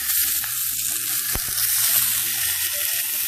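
The fat band of a large sous vide pork chop sears face down in a hot pan, giving a loud, continuous sizzle and crackle close by with one sharp tap partway through.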